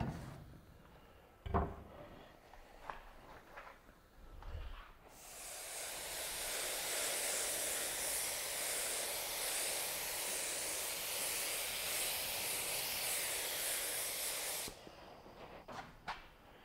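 Patina solution is sprayed onto darkened iron in a steady, close, hissing burst lasting about ten seconds, after a few soft clicks and handling knocks, with no talk over it.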